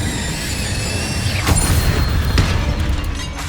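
A fire spell, Incendio, is cast in the Hogwarts Legacy video game inside a tomb, giving a whooshing burst with a couple of crackling bangs against a steady game ambience.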